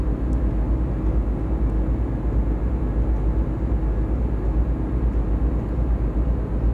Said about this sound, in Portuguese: Olha o avião lá em cima